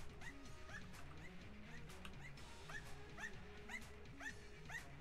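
A dog in the video game Enter the Gungeon barks over and over in a steady rhythm, sitting in the middle distance over a constant low background hum.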